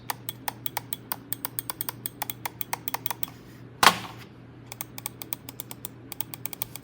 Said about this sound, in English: these clicks are probably among the loudest I've ever used